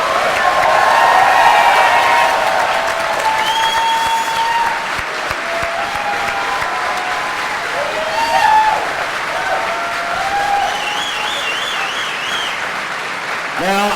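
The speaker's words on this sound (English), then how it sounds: "How about a round of applause for this incredible cast?" Applause for the cast at a fan panel with Stephen S. DeKnight, steady and dense throughout, with overlapping voices and whistle-like tones riding over the clapping from a large crowd.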